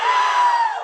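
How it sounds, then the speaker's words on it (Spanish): A small group shouts together in one sustained, loud, close battle cry, a single unified yell that holds steady and then fades slightly at the end. "O sea, un grito de guerra, ¿va?"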